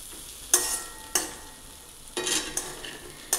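Okra coated in gram flour and spices is stir-fried in a pan, with a soft continuous sizzle and five or six distinct scraping stir strokes at uneven intervals, close by and with no talk.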